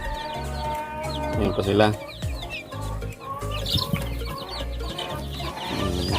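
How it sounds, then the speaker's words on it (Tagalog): Ten-day-old chicks cheep and cluck in a busy, overlapping chorus close by, with bursts of higher peeping and a person speaking briefly over them. "Ito na yung mga sisiw natin maka-chicken."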